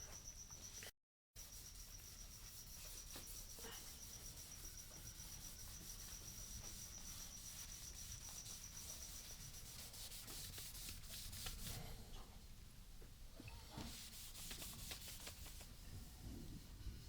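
Stain being rubbed by hand onto a guitar body, a continuous soft rubbing and wiping texture that holds steady for the whole stretch after a brief dropout near the start, quiet and close.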